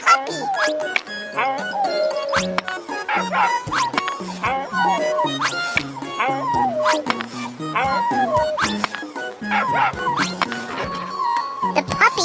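Cartoon puppy trapped under bricks whimpers and yips in short high cries over busy bright background music, with repeated thumping and jingling accents throughout.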